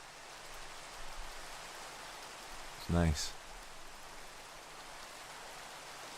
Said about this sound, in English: You can hear that Minecraft rain through this little speaker to my left.